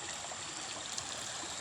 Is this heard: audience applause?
no